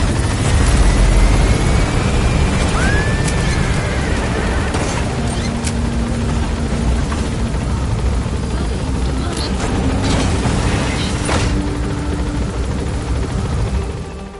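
A helicopter in the Metal Gear Solid V video game climbs steadily: a loud, continuous rotor roar fills the whole stretch, with brief whinny-like tones and game sound effects layered on top.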